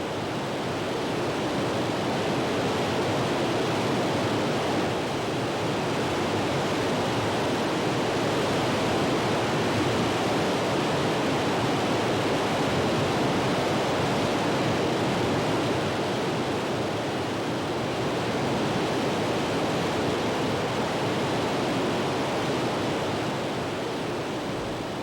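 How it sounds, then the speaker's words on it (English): A river rushes through rapids outside a national park, a steady, dense roar of white water that holds at an even level throughout, with no voices. "But for the more adventurous outside the park, the river enters rapids and provides an exciting adventure."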